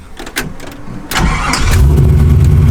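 A car engine cranks and catches on its first startup after a Maaco repaint, a short starter whir, then a rising roar settling into a steady loud idle.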